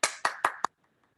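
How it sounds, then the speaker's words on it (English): Four sharp, distinct hand claps in an even rhythm at an Executive Council meeting, acknowledging Debbie's achievement. They are close and clear, then cut off into near silence. "give Debbie a round of applause of acknowledging that achievement"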